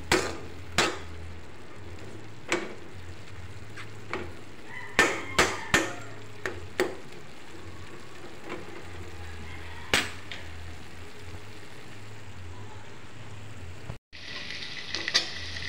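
Home cooking in a pan seasoned with pepper: a faint low sizzle with scattered sharp scrapes and clacks of a utensil stirring, followed by a brief pause and a brighter burst of frying near the end.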